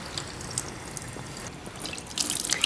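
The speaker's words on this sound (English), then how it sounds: "you're gonna go ahead and rinse that completely off" Running tap water splashes steadily as cleanser is rinsed off a face at a sink, a soft continuous trickle with brighter splashes near the end, no talking.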